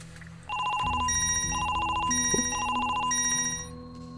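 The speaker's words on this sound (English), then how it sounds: "I like that little ringtone." A bright electronic phone ringtone from the video game Chinatown Detective Agency plays a repeating melodic phrase in several cycles over a soft low hum, clear and close, with no talking.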